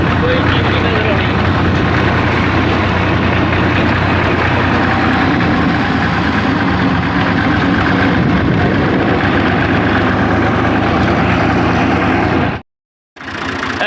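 A car engine drones steadily from inside the vehicle while driving along a rural road through desert and farm fields toward a village, a loud continuous low rumble that cuts off abruptly near the end.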